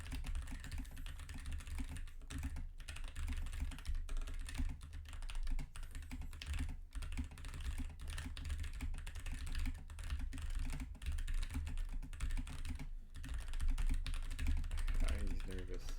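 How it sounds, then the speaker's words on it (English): Keys clatter steadily on a computer keyboard during a game session, a continuous busy tapping over a low background hum, with occasional voices faintly mixed in. "this is my first time using this keyboard"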